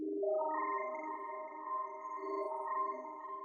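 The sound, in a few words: granular-stretched bass patch in Ableton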